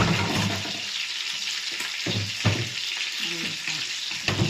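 Fish sizzles and crackles steadily in oil in a pan, with occasional clinks and scrapes of a utensil stirring through the frying.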